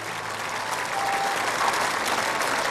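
Sustained applause from a large crowd of mourners at cyclist Felice Gimondi's funeral, a steady dense wash of clapping that swells slightly midway, with no voices over it.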